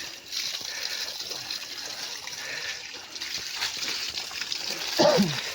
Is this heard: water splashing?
yes